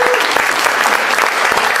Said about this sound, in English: So I think another round of applause.